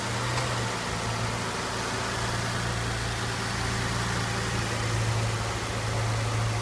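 A 2013 Nissan Maxima SV idling with the hood up and the AC compressor running, a steady low engine hum with a constant drone, close and even throughout, with no talking.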